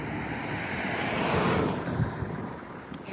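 Strong wind gusting outdoors, a loud continuous roar buffeting the microphone, swelling in the middle and easing slightly toward the end, with no voices.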